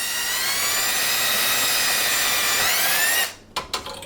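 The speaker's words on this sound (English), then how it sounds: "let me go ahead and pre-drill here" A power drill whines at steady high speed for about three seconds while pre-drilling holes to attach a dishwasher under a granite countertop, then winds down, followed by a couple of short clunks.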